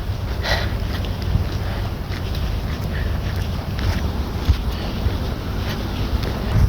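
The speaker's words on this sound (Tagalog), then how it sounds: "Yan yung sinasakyan natin papuntang town, yung ferry na yan." A ferry boat on the way to town gives a steady low rumble, heavily buffeted by constant wind noise across the microphone, with no talking.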